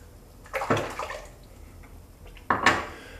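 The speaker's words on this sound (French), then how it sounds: "bon, je me rince, on se retrouve juste après" Water splashes and drips during a rinse after a wet shave with a Parker 26C razor and Proraso green soap, two short splashing bursts close by with quiet gaps between them.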